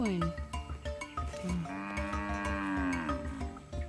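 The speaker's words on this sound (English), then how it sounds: "Oh, another cow." Cows on a farm with other livestock nearby, one drawn-out bellowing moo rising and falling in the middle, set among rural background noise and a few other animal calls. No clear speech.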